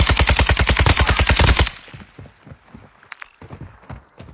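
Rapid automatic gunfire in Call of Duty Warzone 2.0, a loud sustained burst of evenly spaced shots lasting about a second and a half, then sparse distant pops and faint game noise.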